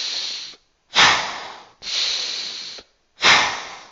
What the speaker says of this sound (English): The 3-2 technique is going to sound like this